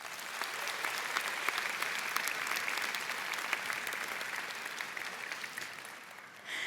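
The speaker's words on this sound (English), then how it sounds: "offer a round of applause for those in the audience" Sustained applause from a large audience at a university nursing commencement ceremony, a dense, steady patter of many hands clapping at once that carries on for several seconds before easing slightly.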